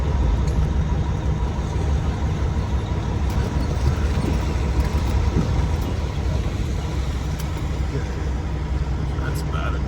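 An over-the-road semi truck turns around on a dirt field, its engine giving a steady, loud, low rumble throughout, with a voice faintly present beneath the drone.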